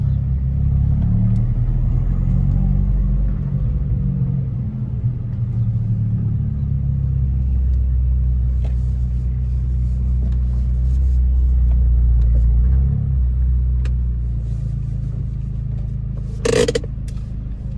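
An Abarth 595 Competizione rumbles at idle close by, a deep steady engine drone holding throughout with a brief sharp clack near the end.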